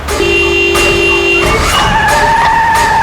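A car driven recklessly skids with loud, sustained tire squeals and sliding, shifting tones over a roaring engine, close and intense for a few seconds.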